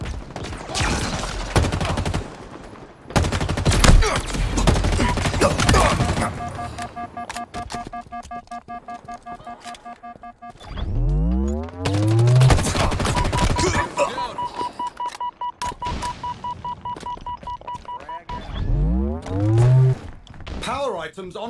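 Gunfire in the sci-fi shooter Halo Infinite during battle royale play, loud close bursts of shots in the opening seconds, then electronic beeping tones and sweeping whooshes, with a voice talking over parts of it.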